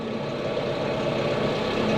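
Steady rumble of a farm tractor engine with a cab, idling close by in winter, a continuous low drone with no pauses and no voices.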